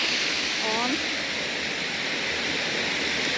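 A small waterfall in the Buky canyon of Ukraine gives a steady, even rushing of falling water that fills the whole stretch, with a faint brief vocal sound near the start.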